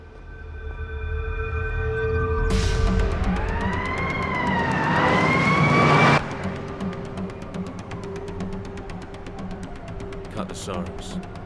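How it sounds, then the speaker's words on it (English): Sirens in a short film wail loudly with a rising and falling sweep over a rumbling vehicle, then cut off abruptly, leaving a lower rattling background. "Sirens."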